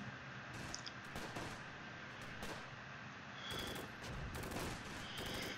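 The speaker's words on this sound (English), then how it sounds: "our mortar shells are starting to land" Mortar shells land in the WWII strategy game Close Combat, a faint cluster of gunfire-like bursts and crackling impacts that come in uneven groups over low battlefield rumble.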